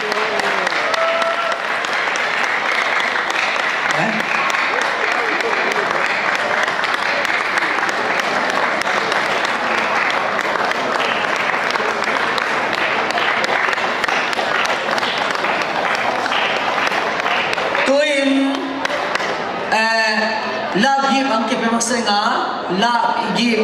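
A large audience claps in loud, dense, sustained applause for about eighteen seconds before it breaks off and a voice comes in over the end.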